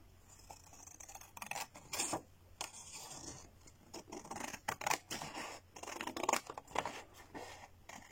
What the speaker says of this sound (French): On va découper d'abord.